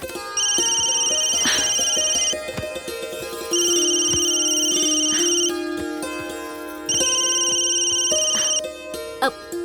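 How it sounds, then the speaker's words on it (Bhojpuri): A phone ringtone plays a bright electronic melody in three repeated bursts with short pauses between them, loud and close. "चाची के फोन"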